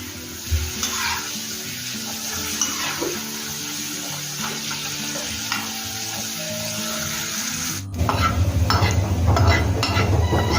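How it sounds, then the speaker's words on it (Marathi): Potatoes for a potato chilli fry in hot oil in a pan, giving a steady crackling sizzle with light stirring scrapes that turns louder and denser toward the end. "हे सगळे आपल्याला तळून घ्यायचे"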